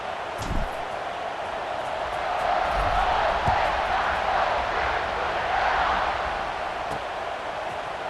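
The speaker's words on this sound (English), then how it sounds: "this crowd now ready to get behind them." A football stadium crowd at a Buckeyes versus Illini game roars and cheers before the kickoff, a broad sustained swell of voices that rises in the middle and holds, with a few sharp thumps near the start.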